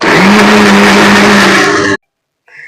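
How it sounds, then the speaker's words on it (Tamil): A mixer grinder blends cabbage chutney with a loud, close, steady whir that cuts off abruptly after about two seconds, followed by a faint clatter. "இப்போ முட்டைகோஸ் சட்னியை மிக்சியில் அரைச்சி எடுத்து வச்சாச்சு"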